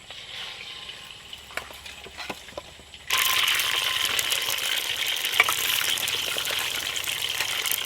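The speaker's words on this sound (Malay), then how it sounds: "Minyak dah panas, ready untuk kita goreng." Chicken pieces dropped into hot oil for a Malaysian soy-sauce kerisik dish, bursting into a loud, steady hiss and crackle after a few seconds of quieter kitchen handling, with no talking.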